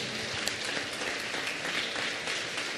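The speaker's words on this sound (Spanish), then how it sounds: "Bienvenido, aplauso para él." A congregation at a church meeting claps to welcome a newcomer, producing dense, steady applause that fills the room at an even level from start to finish.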